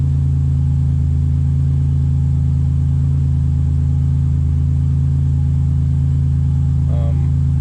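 A turbocharged Subaru Impreza with a swapped EG33 flat-six engine idles steadily after starting, a loud, constant low rumble close by with no noticeable revving.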